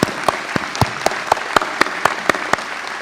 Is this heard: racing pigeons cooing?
no